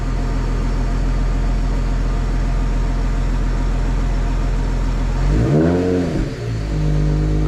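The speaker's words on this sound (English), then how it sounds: "Single turbo noises." A BMW N54 single-turbo engine idles steadily, then revs up sharply near the end with a rising and falling sweep before settling back to a smooth idle, loud and close.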